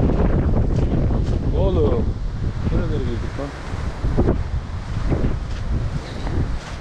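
Strong wind on Argentina's Ruta 40 highway buffets the microphone with a low roar, while a voice speaks intermittently over it.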